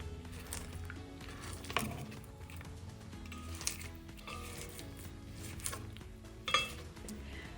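Cream cheese coffee cake batter mixes in a bowl with a steady low mixer hum, soft stirring and occasional clinks against the bowl, with no talking.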